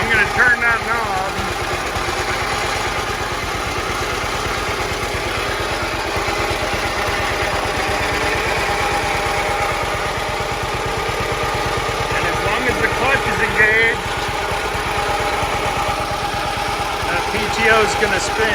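A John Deere Model H tractor engine runs steadily at close range, a continuous low, throbbing mechanical drone with a slightly uneven beat, holding level throughout.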